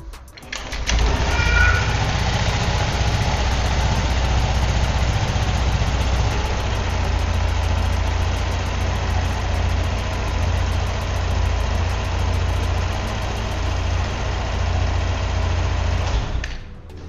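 A 2020 Honda Beat scooter engine starts and then idles steadily, a close continuous putter with a slack drive belt, running alone for about fifteen seconds before cutting off.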